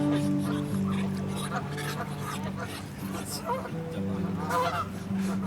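Waterfowl at a lake honk repeatedly, with goose-like calls coming close and loud over steady background chatter from people nearby.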